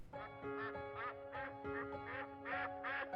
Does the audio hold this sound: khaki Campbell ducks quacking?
yes